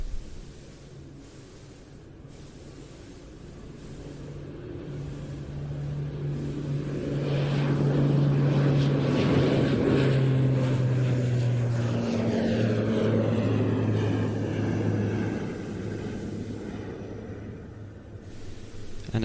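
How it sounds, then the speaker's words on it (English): Finnish Air Force Airbus C-295M twin-turboprop taking off at an air show, its propeller drone swelling from a moderate distance to a loud peak mid-way and then fading as it climbs away. "This looks like the Finnish C-295M, now taking off and heading for home."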